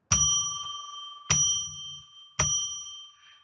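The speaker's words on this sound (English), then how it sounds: "I'm going to ring a bell 3 times to declare sacred space." A small bell is struck three times at an even pace, each bright ring sustaining and slowly fading before the next, close and clear with no other sound.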